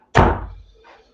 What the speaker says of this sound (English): I'm going to close my door because my dog came in